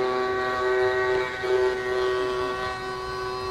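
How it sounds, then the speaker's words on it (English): A small Tamiya electric motor, powered by a single-cell battery, runs submerged in water with a steady high whine and constant buzzing hum, held close and fairly loud for the whole stretch without talking. "So I'm going to go ahead and plug that in and run the motor."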